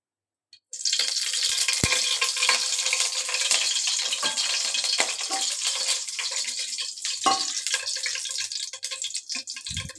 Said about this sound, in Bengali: কড়াইতে আমি তেল দিয়ে দিচ্ছি